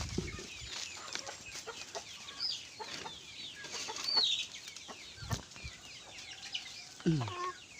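Black Australorp laying hens clucking and squawking while being fed organic feed, a busy flock close by with scattered calls and wing flutters over faint background noise.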